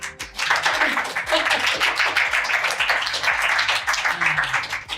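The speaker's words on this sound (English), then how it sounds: "everyone clap" A studio audience claps to welcome a pop singer onto a TV-style set, dense sustained applause filling the room at steady loudness for several seconds.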